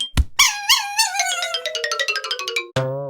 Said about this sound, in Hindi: कुत्ता बिल्लू का बूट मुंह में दबाकर वहां से भाग लेता है।